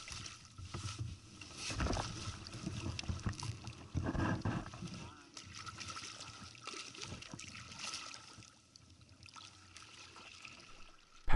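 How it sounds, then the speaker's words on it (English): A sea kayak paddles out a channel through reefs in Dixon Entrance. The paddle strokes make rhythmic splashes and swishes that are close and moderately loud, over a background of moving water and wind. "Paddling out the channel through the reefs to the north."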